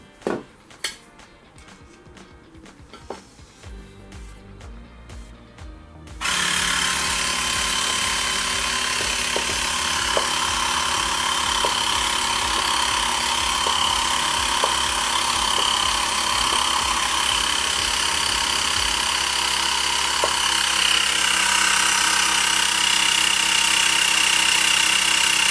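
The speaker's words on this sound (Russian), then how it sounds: "Берем насос и накачиваем." A pump inflates the inner tube of a Xiaomi M365 electric scooter tire. A few light clicks and taps come first, then a loud, steady, continuous mechanical rush begins abruptly and runs without a break to the end.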